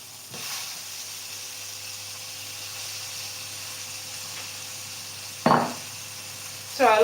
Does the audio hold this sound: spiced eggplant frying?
yes